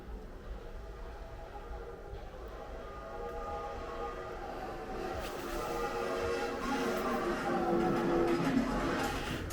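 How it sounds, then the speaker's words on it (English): A train rumbles closer through the Brockville Railway Tunnel, its low roar and metallic rattle building steadily over several seconds, with a faint whistle-like tone. "here comes the train"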